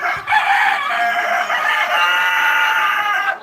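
Laying hens cluck loudly and continuously close by, joined by a rooster's crow in a busy poultry shed.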